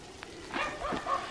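A dog barks and yips amid rain falling in a forest near Kremenets, Ukraine, with a few short, close barks over a soft, steady patter.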